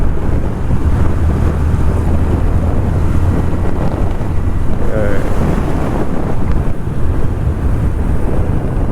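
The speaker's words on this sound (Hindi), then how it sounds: "आपको सुनाई दे रहा होगा कि हवा कितनी चल रही है।" Strong wind roars steadily across the microphone while riding a Yamaha FZ motorbike before rain, a loud continuous buffeting with engine rumble beneath.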